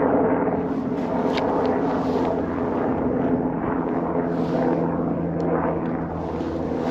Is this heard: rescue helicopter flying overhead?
yes